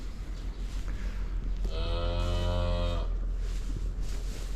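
A cow on a farm lets out a single loud, drawn-out moo in the middle, over a steady low rumble of wind or outdoor noise.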